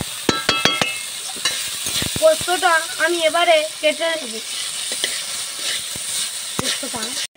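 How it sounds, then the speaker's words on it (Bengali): Potatoes fry with cumin in a pan, crackling with a soft sizzle as a spatula stirs and scrapes in sharp clicks, close and moderately loud, while someone talks over it. "জিরে আলুটা দেখো কত সুন্দর ভাজা ভাজা হয়ে আসছে।"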